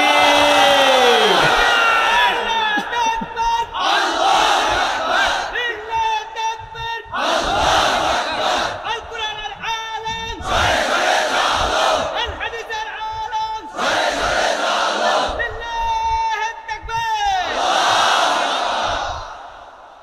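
Large crowd at a Bangladeshi Islamic sermon gathering shouting a religious chant in unison, answering a leader's call in repeated loud waves, each roar separated by brief pauses.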